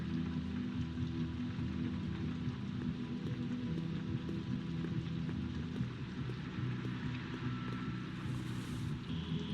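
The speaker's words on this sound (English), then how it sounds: "It's raining outside." Rain falls outside in The Wolf Among Us, a steady, faint patter that keeps going without a break and has no talk over it.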